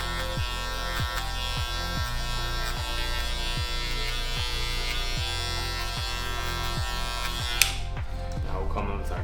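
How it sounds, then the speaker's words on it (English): Electric hair clipper with no guard buzzing steadily and close up during a high skin fade haircut, a continuous motor whine with a rapid pulsing rhythm that cuts off abruptly near the end. "Now we'll come in with our clipper"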